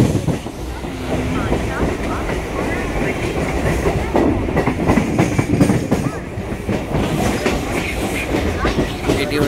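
A train heading from Ichapur to Howrah rolls into Bally halt station, its wheels clattering rhythmically over the rails in a steady loud rumble, with faint voices underneath.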